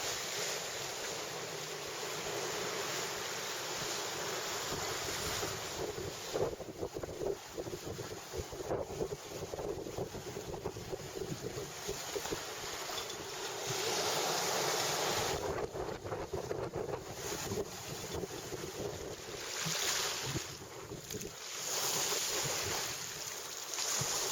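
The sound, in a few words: 30 knot southwesterly wind and big ocean swells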